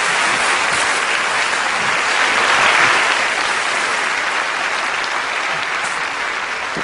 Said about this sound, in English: Round of applause for Emma.